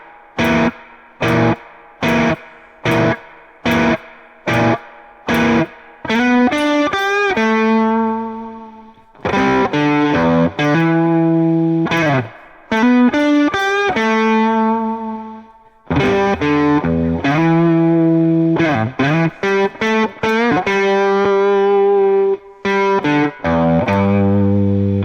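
Distorted electric guitar plays a riff, slowly and alone: a run of sharply separated stabbed chords, then sustained ringing phrases and bends with short gaps between them.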